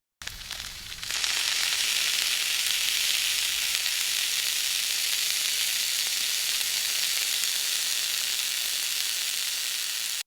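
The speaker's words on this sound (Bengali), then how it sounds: "চুলায় কড়াই বসিয়ে তেল গরম করি।" Oil heats in a kadai on a village stove. A loud, continuous sizzle starts after about a second and holds evenly to the end with no voices.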